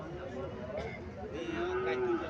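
A Sahiwal bull calf at a cattle market gives two drawn-out moos, the second one longer, with faint crowd chatter behind them.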